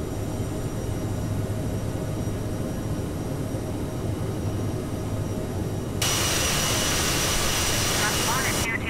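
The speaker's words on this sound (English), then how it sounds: "Little sloppy takeoff there." A Bombardier CRJ700 regional jet's engines roar steadily while climbing after takeoff in Microsoft Flight Simulator 2020, with a dense, continuous whine that brightens into a louder high-pitched hiss partway through.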